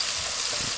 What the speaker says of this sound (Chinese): 油热后放入13香，一把葱花，炒出葱花的香味儿